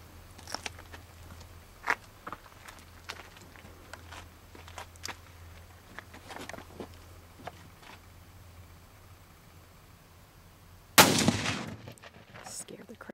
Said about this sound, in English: we're going to be shooting the first ballistic model with sand